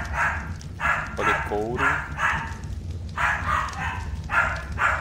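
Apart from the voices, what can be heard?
dog barking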